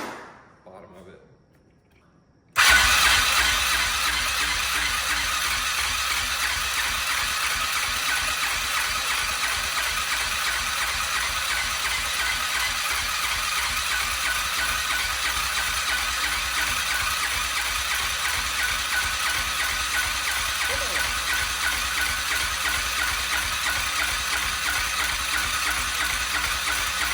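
A quad with no exhaust fitted starts abruptly after a quiet moment, then runs at a loud, steady, rattling idle for over twenty seconds.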